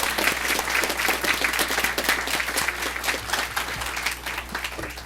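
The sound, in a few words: audience applause for a school sports team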